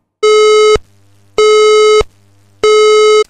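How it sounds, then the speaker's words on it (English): A loud building alarm alert tone signalling to prepare for evacuation beeps three times in a steady on-off pattern, each pulse lasting about half a second with short gaps between. "that means that is the alert tone and that means prepare for evacuation"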